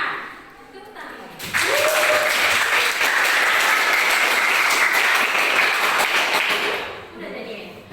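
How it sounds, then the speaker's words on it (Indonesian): Applause from a classroom of students during a Christian religious education micro-teaching lesson, bursting in loud and steady for about five and a half seconds before tapering off, with faint talk before it. "Tepuk tangan"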